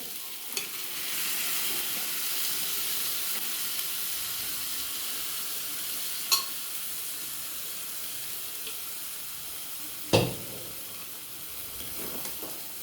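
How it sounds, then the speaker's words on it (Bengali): Boiled chickpeas sizzle and fry in a hot pan for Bengali ghugni, a steady broadband hiss with a few sharp clicks and scrapes, one louder clatter near the end; no speech. "এবার আমি সেদ্ধ করে রাখা বুটগুলো দিয়ে দেবো।"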